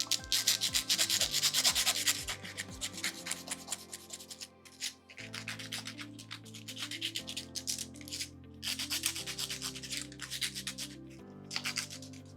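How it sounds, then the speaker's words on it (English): A dental aligner liner is smoothed with fine sandpaper in close, rapid scratchy rubbing strokes, loudest at the start and again in bursts later, over a soft tonal background. "we're going to do the final smoothing using a fine sandpaper"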